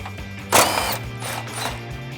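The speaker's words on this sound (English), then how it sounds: "we'll remove the 10mm bolt that's holding the airbox into place on the fender here" Ratchet clicking as a 10mm bolt securing the airbox to the fender of a 2018-2019 Mustang GT is loosened; a sharp burst of rapid pawl clicks near the start, then softer intermittent ratcheting over a low steady hum.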